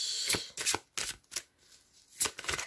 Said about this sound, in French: on va aller chercher 4 cartes de l'oracle de l'énergie